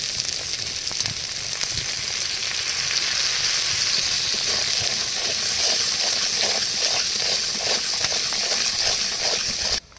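Spices with turmeric and chili powder sauté in a pan for a vegetarian dish, giving a continuous loud sizzle and frying hiss with faint stirring scrapes, cut off abruptly at the end.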